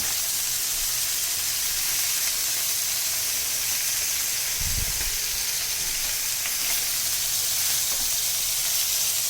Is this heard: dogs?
no